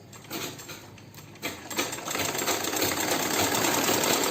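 A vintage manual Butterfly sewing machine runs under foot-treadle power, a close mechanical whirring and rattling that builds steadily louder and faster over a few seconds, with no voices.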